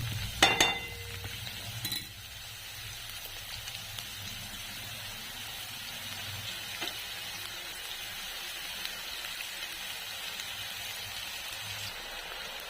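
Onions frying in a pan for a jackfruit curry, a soft continuous sizzle with an occasional stir or clatter near the start, otherwise steady and fairly quiet.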